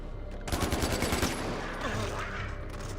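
Rapid bursts of AK assault rifle fire rattle in Far Cry 4, a fast automatic volley up close before fading into softer background noise.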